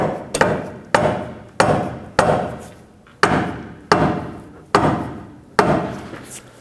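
Rubber mallet striking the front control arm of a 2009–2014 Honda Fit as it is fitted into place, nine evenly spaced, loud, close thuds about every three-quarters of a second, each with a short ringing decay.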